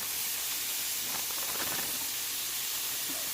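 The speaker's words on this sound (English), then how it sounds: "a cup and a half of my onion and pepper blend. We're going to let this saute down." An onion and pepper blend sautés in a pan over a gas flame, giving a steady, even sizzle and hiss throughout with no talking.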